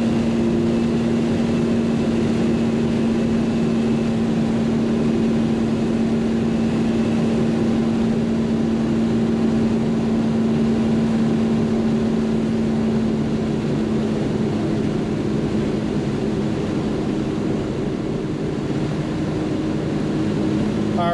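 A 1973 Jaguar XKE engine drones steadily while driving, a loud continuous low hum with a sustained tonal note and road rumble throughout, easing slightly toward the end as it decelerates.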